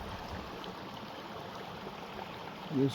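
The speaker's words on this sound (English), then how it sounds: "I see a creek crossing again" Creek water rushing over a trail crossing near Switzer Falls in Angeles National Forest, a steady broadband wash close by and unbroken, with no talking.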